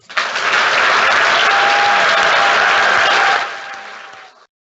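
Audience at an International Women's Day 2019 event applauding to congratulate Mary, a loud dense burst of clapping that swells quickly, holds for about three seconds, then fades away.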